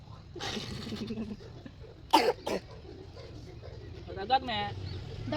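Two short, loud coughs in quick succession near the mic, then a softer throat sound, all against background chatter and faint bird coos in a village setting.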